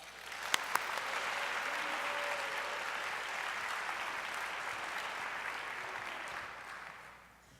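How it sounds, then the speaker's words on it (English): A university health sciences scholars day audience gives a round of applause: a few sharp claps first, then dense, sustained clapping at moderate volume, fading out near the end. "Let's all give them a round of applause."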